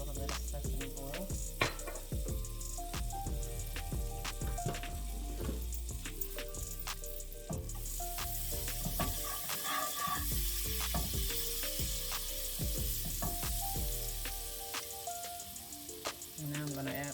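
Butter and sesame oil sizzling in a hot pan on medium-high heat for a teriyaki beef noodle stir fry, a steady crackling fry with popping bursts running throughout, no talking.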